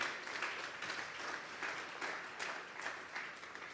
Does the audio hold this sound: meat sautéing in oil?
no